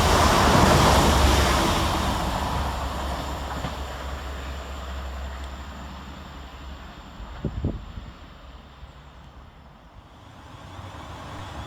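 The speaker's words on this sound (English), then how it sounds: "Passing fast through the station 6 minutes early for South Western Railway is 450-035 and 450-124" A South Western Railway Class 450 electric train, two units coupled, races through Rowlands Castle station, a heavy rushing rumble that is loudest at the start and then slowly fades, with a brief clank near the end.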